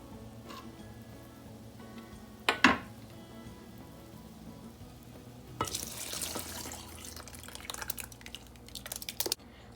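Cornmeal poured into a bubbling pot of water and stirred for Jamaican turn cornmeal (cou cou) with vegetables: a few light ticks and a brief scrape, then a longer stretch of steady, gritty swishing and pouring noise, fairly close, with no talking.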